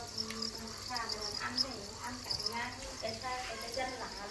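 Farmed crickets, raised for 40 days on a cricket farm, chirp in rapid, continuous high trills that sound close and moderately loud, while a person speaks over them.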